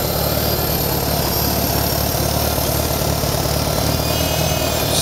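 A 1975 International Farmall 140 tractor engine idles steadily up close, a loud, even low-pitched chugging with constant mechanical hum and no change in pace.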